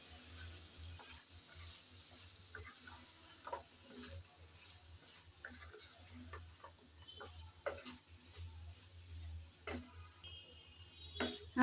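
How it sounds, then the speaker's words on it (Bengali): Vegetables sautéing with cumin, coriander powder and salt in a pan, stirred with quiet scraping strokes and soft ticks over a faint low sizzle, close and gentle. "সব এখন একসাথে ভালো করে নেড়ে চেড়ে কষিয়ে নিতে হবে।"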